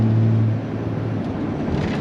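Steady loud drone of a 12-valve Cummins diesel truck with 4.10 gears cruising at 75 to 80 mph on a highway, engine and road roar constant throughout, with a voice talking over the first part.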